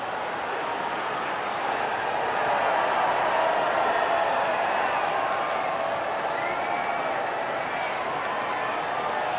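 Crowd applause and cheering at the podium after a Formula 1 race at Monza in the F1 24 video game, a broad, steady wash of distant clapping and crowd noise that swells slightly midway.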